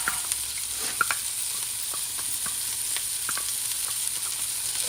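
Rice and turkey fry in a pan with a steady hiss, broken by small scraping knocks as the mixture is stirred around; close and continuous, no voices.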